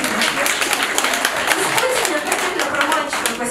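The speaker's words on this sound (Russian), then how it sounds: "Так что аплодисменты." Concert audience applauding at a live show in the Gnezdo Glukharya club, steady dense clapping filling the whole stretch, loud and close with some crowd noise mixed in.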